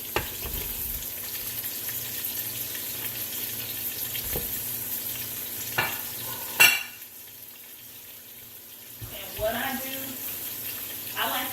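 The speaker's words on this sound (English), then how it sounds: "adding in the sausage." Sausage for a keto cabbage soup sizzles quietly in a pot, with a few sharp utensil knocks and scrapes. A brief clatter near the middle is followed by a quieter stretch, and a voice can be heard faintly in the background.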